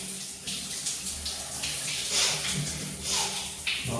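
Shower water runs hard and close in a steady hissing stream, rising and falling slightly as it splashes over someone standing underneath.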